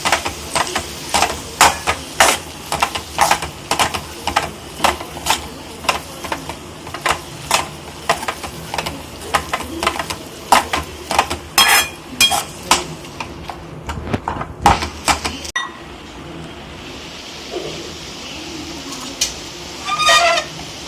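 Kothu parotta being chopped and pounded with a small glass tumbler, mixed with mutton curry, giving a rapid, steady run of sharp clinking taps close by, with no talk.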